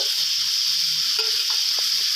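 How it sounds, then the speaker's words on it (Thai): A loud, steady sizzle of a coriander root, garlic and white pepper paste frying in a hot pan, with a few scrapes and stirs breaking through the constant crackle. "ขั้นตอนต่อไปก็ตั้งกระทะนะครับผม อ่าเอาสามเกลือลงไปผัดนะครับ"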